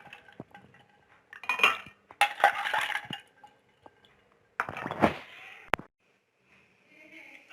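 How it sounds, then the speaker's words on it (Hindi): Ice cubes tumble into jaggery sharbat, close and clattering, in two bursts of clinking and knocking against the vessel separated by a quiet pause, with brief lighter taps around them. "अब इसमें हम बर्फ डालेंगे।"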